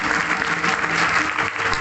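A kirtan audience claps for the performer, steady dense applause from many hands that fills the whole short moment at an even volume.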